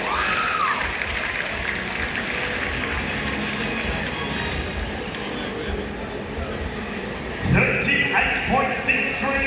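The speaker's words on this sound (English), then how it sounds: "give him a round of applause" A crowd at the Sydney Royal Easter Show arena applauds steadily throughout, with a louder burst of clapping and cheering near the end over an announcer's amplified voice.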